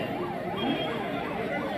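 Ambulance siren wailing past an outdoor election rally in Gudiyatham, a steady rising-and-falling tone sweeping repeatedly, fairly loud and continuous over crowd noise.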